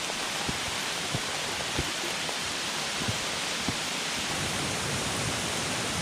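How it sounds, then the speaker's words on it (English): Steady broadband rush of water pouring down a cascade during heavy rain, constant and full, with a few faint scattered drips or knocks under the flow. "That cascade has a lot of water to work with."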